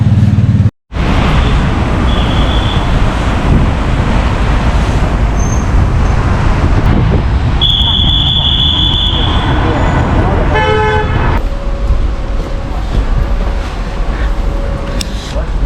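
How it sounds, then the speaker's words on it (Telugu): Traffic rolls along a Belgrade street, with an old Soviet-era Russian car among the vehicles, engines rumbling close and a few short horn toots and a brief squeal rising over the steady road noise. "ఇది ఓల్డ్ రష్యన్ కార్ అంట, సోవియట్ యూనియన్ కార్ అంటే ఇది."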